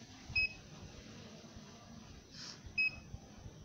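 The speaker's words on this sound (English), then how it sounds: "the buzzer gives a beep saying that the person has no access" An RFID access control reader's buzzer denies a scanned tag with two short, sharp electronic beeps about two and a half seconds apart, clear over quiet room noise.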